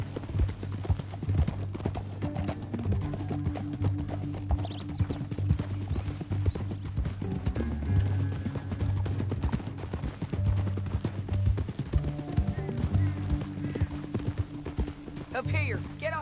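Horse hooves clip-clop at a steady walking rhythm throughout, with a voice talking over the hoofbeats, in the video game Red Dead Redemption 2.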